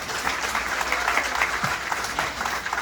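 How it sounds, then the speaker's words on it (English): Applause for a community volunteer at an outdoor Ramayan in the Park temple gathering: a crowd claps steadily and evenly, a dense, sustained patter heard alone at moderate loudness. "Give him a round of applause"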